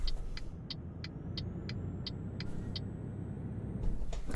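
A truck engine hums in Euro Truck Simulator 2, a steady low rumble under a series of regular ticking clicks and a faint rising whine, moderately quiet and even with no talk.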